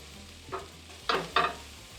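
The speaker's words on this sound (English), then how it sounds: "you're going to feel like you're burning the fajitas, but you're not. You want to keep cooking until all the juice is gone out of the pan" Fajitas frying in a hot pan as the juices cook off, a few short bursts of sizzle and stirring scrapes over a low background, moderately close.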